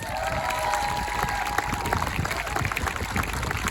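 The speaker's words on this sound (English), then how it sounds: "Give yourselves a round of applause." Supporters applauding at a political campaign launch, a fairly faint, distant spread of clapping and some crowd noise with a steady tone running underneath.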